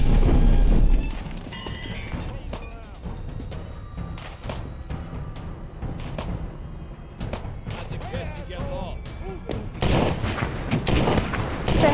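Gunfire in The Walking Dead Saints and Sinners video game, several sharp shots scattered over game ambience and effects, with a louder burst near the end.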